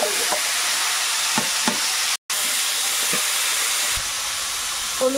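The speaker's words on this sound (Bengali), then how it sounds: "এখন তেলের মধ্যে একটু শুকনো লঙ্কা আর একটু রসুন কুচি দিলাম" Dry red chili and chopped garlic hit hot oil in a pan, with potatoes about to be added to a fish dish in a Sundarban home kitchen. A steady, loud sizzle and hiss runs throughout, broken by one brief gap, with small clinks of stirring.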